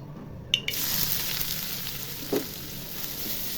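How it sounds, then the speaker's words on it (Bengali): Onions poured into hot oil start a close, steady sizzle, with a couple of sharp clinks from the pan and no voices. "এখন এই তেলের মধ্যে আমি পেঁয়াজ কিছু ঢেলে দেবো"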